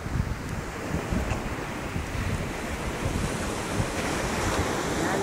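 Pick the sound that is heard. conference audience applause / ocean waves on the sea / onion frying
ocean waves on the sea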